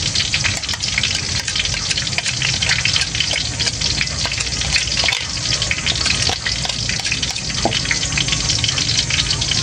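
Loud, steady sizzling and crackling of squid frying in hot oil, with sharp pops scattered throughout and no talking.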